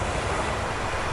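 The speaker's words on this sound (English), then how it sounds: "sound of the sea" Sea waves wash onto a beach beside a coastal path along the Solent in a light breeze, a continuous broadband rush with a steady, even level and no voices.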